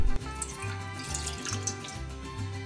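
Two cups of water pour into a deep frying pan on a stove set to medium-low heat for oat tortillas, a steady splashing trickle after a brief opening knock, fairly loud and close.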